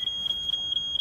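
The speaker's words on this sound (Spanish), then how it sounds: "Nos dicen que el detector de humo está" Smoke detector alarm sounding during a test: a loud, piercing electronic tone repeating in rapid pulses with brief gaps, close and alone without any talking.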